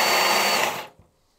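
A BLACK+DECKER 20V MAX cordless 10-inch chainsaw runs indoors in a shop, giving a loud, steady high-pitched motor whine that abruptly winds down and stops, followed by a small thump and silence.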